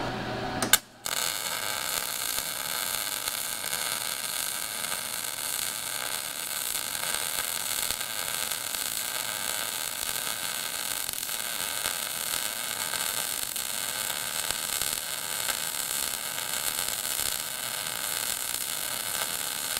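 A Titanium Vulcan MIG welder runs a continuous weld around a workpiece. After a brief start, a dense, steady crackling hiss holds evenly for nearly twenty seconds, with no talking.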